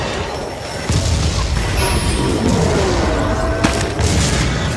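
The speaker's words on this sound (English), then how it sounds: "I'm cannoning one of the stones right now." Cannon fire booms against stones in the fantasy combat game Darkfall Unholy Wars, heavy low blasts amid a dense, loud battle din with scattered impacts and clatter, no voices.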